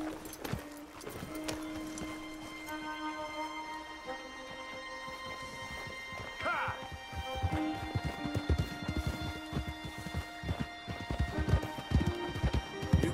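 Horse hooves clip-clop in the video game Red Dead Redemption 2, a rhythmic series of hoofbeats that grows louder and busier toward the end, over faint background tones and music.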